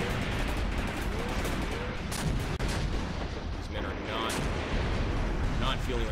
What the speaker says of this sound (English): that was actually friendly arty